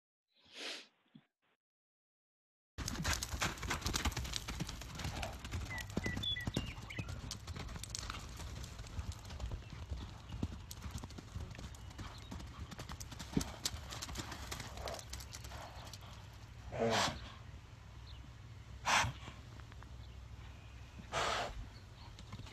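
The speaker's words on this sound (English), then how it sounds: "And Emmy, you can turn the sound up because there's some snorting going on" A miniature horse moves about outdoors with steady hoof clatter and shuffling throughout, and a few short, breathy snorts stand out near the end; no one speaks.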